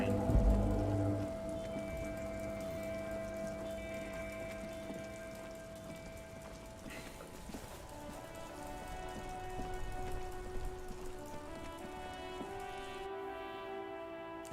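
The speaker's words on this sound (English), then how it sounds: "Let's get out of the rain." Steady rain patters on surfaces in the video game Disco Elysium, a continuous soft hiss of drops beneath sustained tonal game music.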